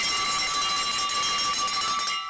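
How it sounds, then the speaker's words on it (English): A bell rings loudly and steadily, its sustained metallic tone holding for about two seconds before cutting off, with no voices over it. "ring that bell"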